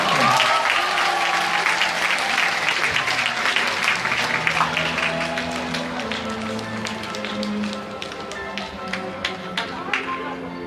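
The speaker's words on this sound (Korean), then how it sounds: "박수 한번 내드리겠습니까?" A crowd applauds loudly at first, the clapping thinning out over several seconds into scattered claps while voices murmur underneath.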